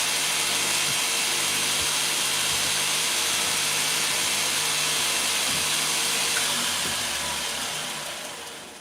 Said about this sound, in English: We're gonna use the sander.